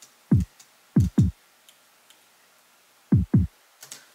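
Several short, punchy kick drum thumps in pairs and singles, low and dry with quick decay, separated by near silence and a few faint ticks.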